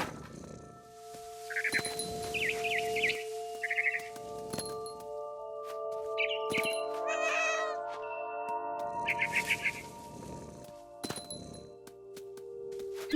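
A cat in What Remains of Edith Finch meows and caterwauls repeatedly in short bursts at close range over a steady tonal background, with occasional clinks and cracks between the calls.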